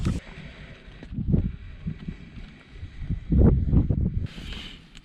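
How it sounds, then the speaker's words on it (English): Gusty wind buffets a tarp campsite during a thunderstorm, rumbling low and uneven in surges, with stronger blasts swelling near the middle and toward the end. "Still quite windy."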